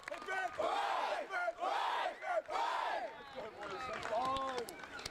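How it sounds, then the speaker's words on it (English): Junior gridiron football players at a Queensland Sunbowl game shout three cheers for their parents: loud, close group voices rise and fall in three sustained chanted bursts, with a ragged fourth call trailing off. "Three cheers for the parents."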